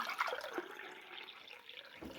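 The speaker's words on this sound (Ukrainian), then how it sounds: "ми зараз будемо сюди заливати воду" Quiet, brief trickle and splash of water pouring into a container, soft and close.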